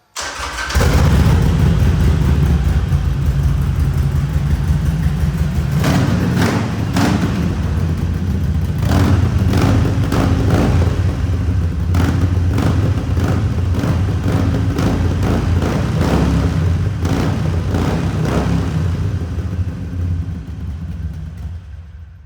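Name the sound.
Harley-Davidson 883 motorcycle exhaust sound test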